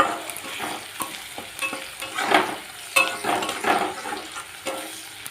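Onion, garlic, slit green chillies and turmeric powder frying in a pan for a Lote fish (Bombay duck) jhuri, a steady close sizzle broken by repeated scrapes and stirs of a spatula, no voices.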